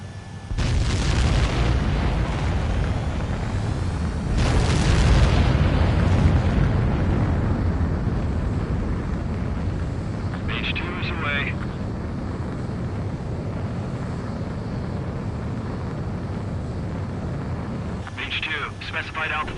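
Jet aircraft launch and takeoff in a combat flight video game: a loud, sustained engine roar with two surging blasts early on, easing into a steady rumble, with brief radio-style voice chatter twice.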